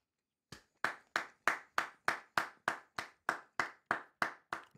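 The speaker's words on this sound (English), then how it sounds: "I'm just clapping for no reason." Thirteen sharp hand claps at a steady, even pace, close and crisp, with silence before the first clap and no voices.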